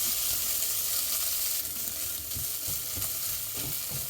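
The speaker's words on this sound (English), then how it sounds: "Let's cook all this together for like 2 to 5 minutes." Carrots and mixed vegetables for a spicy masala couscous sizzle and fry steadily in a pan, a dense continuous hiss with occasional soft stirring scrapes and no talking.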